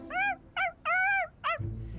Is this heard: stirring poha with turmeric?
no